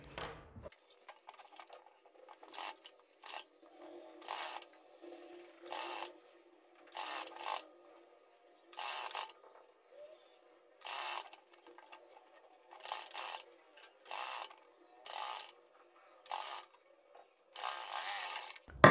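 A sewing machine stitches fabric strips onto a blouse neckline in short repeated bursts of rapid whirring, each separated by brief pauses, close and fairly quiet.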